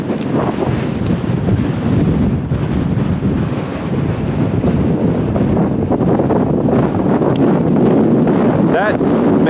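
Strong wind buffets a camera microphone on an exposed high-country summit during a dual-sport motorcycle ride, a loud, constant roar with gusty low rumbling throughout and no clear voices.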